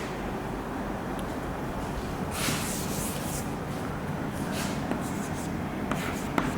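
Chalk or marker scratches and rubs across a board while code is written, in continuous short strokes with a few sharper taps, all under a steady room hiss.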